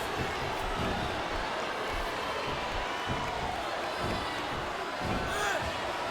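Arena crowd noise from the wrestling video game WWE SmackDown vs. Raw 2007, a steady dense roar of a capacity audience with scattered thuds of in-ring action underneath.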